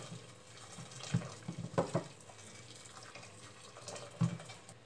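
Hot water from an electric kettle pours steadily into a pot over chicken breast, a continuous rushing splash, a few louder sloshes rising over the flow.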